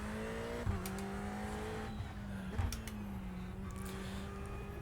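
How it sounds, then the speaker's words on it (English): A race car in the iRacing simulator drones at a steady engine pitch, with a sustained high brake squeal layered over it and a couple of brief knocks, heard without talk. "Hear that scream as well, the brakes squealing."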